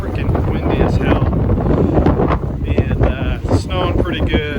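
Strong outdoor wind blasts into the microphone, a loud buffeting rumble with gusts, while someone talks intermittently over it and brief higher tones cut through.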